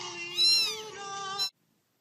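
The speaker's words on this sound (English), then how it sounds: "No, get this cat out of here!" A cat gives one long, rising and falling meow with a brief bright upturn at the end, close and clear, then silence.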